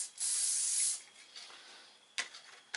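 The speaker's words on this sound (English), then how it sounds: "So we'll get the hairspray out and give it a go." Hairspray is sprayed onto a scale model in one close, steady hissing burst of nearly a second, followed by faint shuffling and two small taps.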